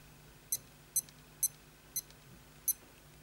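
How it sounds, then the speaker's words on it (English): A Casio F91W digital watch sounds its alarm test: five short, sharp electronic beeps at an even, quick pace, close and clear over quiet room hiss. "Hold that in to test the alarm"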